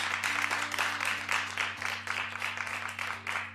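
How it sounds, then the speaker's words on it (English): A talk-show studio audience claps in a sustained, dense burst of applause that stays fairly even in level throughout, heard alone without speech. "No, clap like you mean it."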